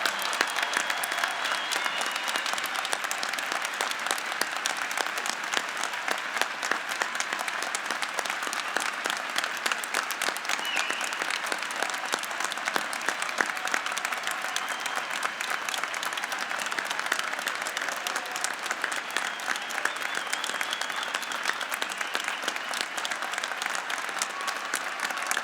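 At a commencement ceremony, an audience applauds steadily and densely for more than twenty-five seconds, a continuous wash of many hands clapping with no break.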